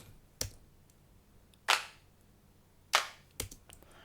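Four sharp clap hits in a Logic Pro remake of a pop song, two of them fuller and layered with a brief noisy tail, spaced irregularly against a quiet background.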